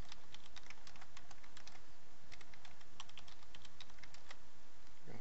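Someone types a password on a computer keyboard, a quick, close series of light key clicks over a steady background hiss.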